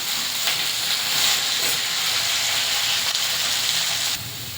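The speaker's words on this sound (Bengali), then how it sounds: "এইভাবে নাড়াচাড়া করে নিচ্ছি" Red amaranth greens and jackfruit seeds sizzle steadily as they are stirred and fried in a pan, a continuous close hiss with faint scraping and no voices.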